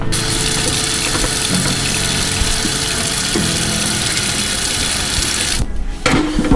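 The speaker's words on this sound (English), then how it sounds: "we're gonna grab this here toothbrush and we're just gonna start cleaning" A sunken Abu Garcia Vengeance baitcasting reel scrubbed with a toothbrush in water, producing a continuous loud, close hiss of running and sloshing water with brisk scrubbing noise, then a short pause before it resumes.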